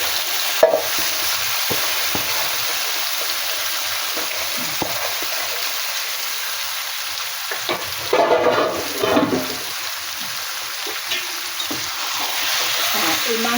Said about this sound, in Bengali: মাংসটা আমি কড়াই দিয়ে দিই।